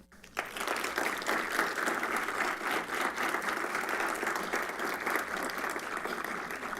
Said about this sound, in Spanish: damos un fuerte aplauso a Eufrosina Cruz Mendoza para que nos acompañe